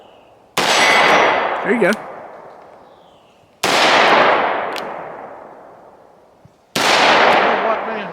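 A Taurus Judge Magnum TORO revolver fires three loud, booming shots spaced about three seconds apart, each ringing out with a long decaying tail. A short spoken phrase follows the first shot.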